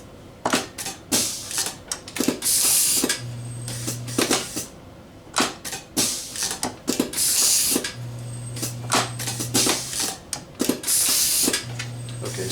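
A CDSS UNI_CRN wire processing machine feeds and crimps electrical contacts, sharp mechanical snaps and clacks in cycles with bursts of hissing air and a low motor hum between strokes, loud and close.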